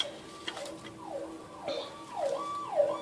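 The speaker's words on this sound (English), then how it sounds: "all you hear is sirens flying down the street" Emergency vehicle sirens wail down a street outside a home on an emergency route, their repeated sweeping tones faint and distant before growing somewhat louder.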